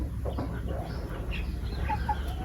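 Free-range village chickens cluck softly while pecking at sago feed, with scattered short clucks near and far over a steady outdoor background and no one speaking.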